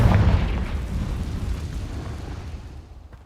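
A Confringo spell explosion in Hogwarts Legacy booms heavily up close, its deep rumble fading gradually over a few seconds with no talking.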